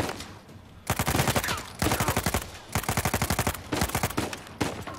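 A heavy automatic gun firing in the video game Uncharted 4, long rapid bursts of close, loud shots separated by short pauses.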